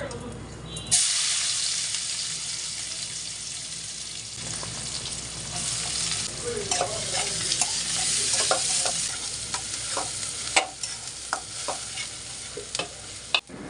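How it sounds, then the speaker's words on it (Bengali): Eggs frying in a pan with salt and turmeric, a continuous bright sizzle with intermittent stirring scrapes and clinks of a utensil, close and fairly loud, with no one speaking. "সামান্য একটু লবণ আর হলুদ দিয়ে এখন ডিমটাকে ভেজে নেব"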